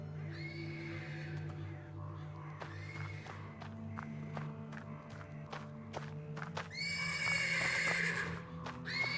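A horse neighs and whinnies repeatedly from stables in a video game scene, with hoof clops and footsteps mixed in, and a louder, longer whinny near the end over a steady low ambient hum.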